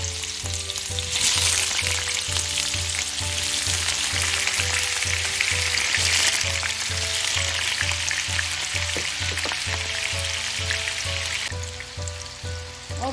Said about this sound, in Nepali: र मैले यहाँ राखेँ कटहरलाई तेलमा।